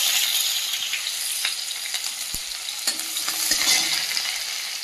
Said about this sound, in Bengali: কড়াই দিয়ে দেবো পেঁয়াজ,